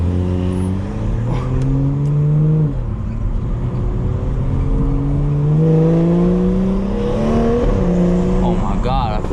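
A BMW 440i's engine climbs hard under acceleration, its tone rising steadily, dropping sharply at an upshift, then pulling up again before another quick shift near the end; loud and close, with a voice faintly present.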